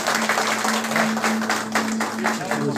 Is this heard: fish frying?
no